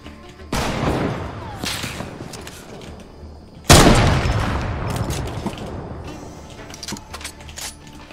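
Shotgun blasts in a Fortnite battle, two sharp loud reports a few seconds apart with rattling decay, followed by scattered smaller clicks and game effects.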